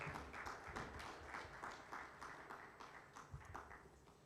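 Very faint applause from an audience at a strategy launch event, a soft patter of clapping heard at a distance and sustained for a few seconds.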